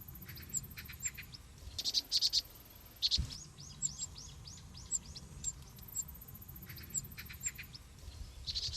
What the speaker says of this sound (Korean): 바로 새끼 뻐꾸기입니다.